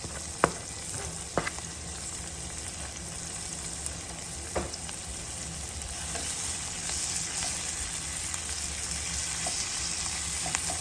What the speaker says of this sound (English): And we are going to saute this first, get it nice and tender, and allow your herbs to release all the flavors